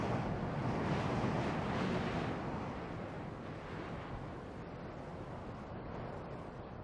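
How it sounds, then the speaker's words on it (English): Strong wind sweeping down from the Andes across the Atacama Desert, a steady, loud roaring rush of air that stays constant throughout with slight gusty swells and no other sounds. "The spell of silence is broken by air that sweeps down from the Andes."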